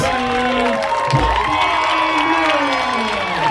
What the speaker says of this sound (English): as you can hear, the St. Bede crowd erupts